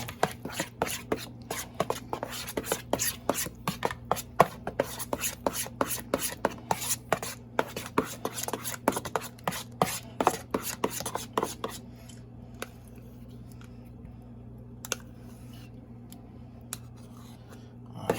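Ingredients for homemade bang bang sauce being stirred together in a bowl, a quick rhythmic scraping and tapping of utensil against the container that runs steadily, then thins to sparse taps over a low steady hum.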